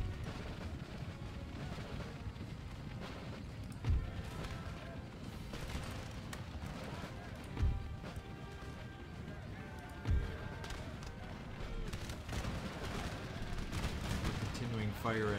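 Musket volleys fire in a battle from the strategy game Empire: Total War, with three distinct booming shots spaced a few seconds apart over a steady battlefield din of distant gunfire and noise.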